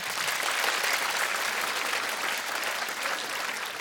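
A stand-up comedy audience in Mukachevo claps in a steady, full round of applause that stays evenly loud throughout, with no voices rising above it.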